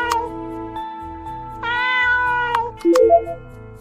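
A cat meows a few times in the video game Future Proof, its clear, close cries rising over looping, rhythmic game music with a low pulsing beat.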